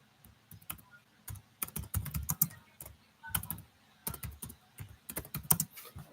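Typing on a computer keyboard at close range, quick irregular bursts of crisp key clicks separated by short pauses, fairly quiet with no talking.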